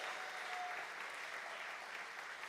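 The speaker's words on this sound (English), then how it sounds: "Let's give all of our sponsors a great big round of applause." A theater audience claps in a dense, sustained round of applause for event sponsors, even and continuous throughout.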